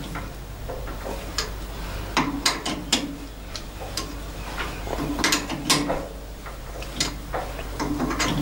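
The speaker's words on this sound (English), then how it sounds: "I'll just give them a nip up, tighten the jaws up." The jaws of a lathe chuck are tightened before facing a flat jewellery plate, giving a scatter of sharp metallic clicks and ratcheting ticks at irregular intervals, close by, over a low steady hum.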